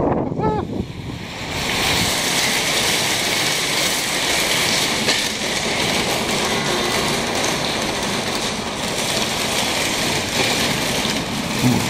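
Heavy rain pours down in a broad, steady hiss near a railway with a passing Canadian National intermodal freight train, the wash of water and rumble blending loudly and continuously.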